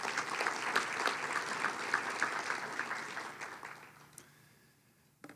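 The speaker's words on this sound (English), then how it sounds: "So let's give all of them a big round of applause." An audience at a chamber education outlook event with the superintendent gives a round of applause, steady dense clapping that gradually thins and fades out over a few seconds.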